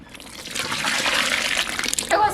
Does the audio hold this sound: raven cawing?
no